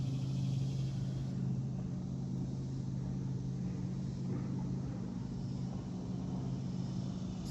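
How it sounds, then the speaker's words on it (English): Boats on the Ohio River drone from a distance, heard from a wooded state park trail as a steady low engine rumble and hum that never lets up. "Still hear the boats out in the Ohio."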